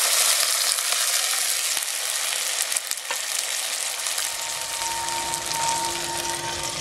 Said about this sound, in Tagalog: Then dito lalagyan po natin ng water.